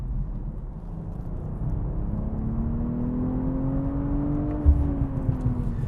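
A 2025 BMW M340i xDrive saloon accelerates hard, its engine note rising steadily in pitch as a smooth, continuous drone heard from inside the car, with a brief thump near the end.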